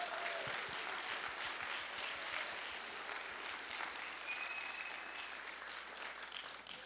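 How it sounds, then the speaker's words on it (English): A church congregation at Sunday worship applauds new covenant members, a steady, dense wash of clapping from many hands that fills the room evenly throughout, with a few cheers mixed in. "So let's give them a cheer."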